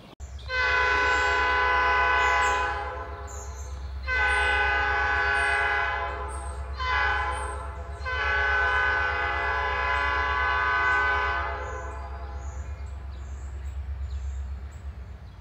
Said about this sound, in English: let's go catch that train, son.